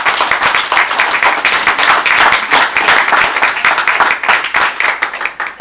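An audience applauds with steady, dense clapping that holds for several seconds, loud and close, with no talking over it.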